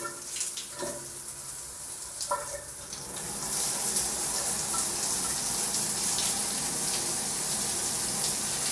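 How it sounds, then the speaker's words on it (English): Water from a hotel shower tap in Bangkok runs steadily, starting after a few clicks and handling sounds, then settling into a loud, continuous hiss that fills the rest of the scene. "let's see how long it takes for the water to get hot"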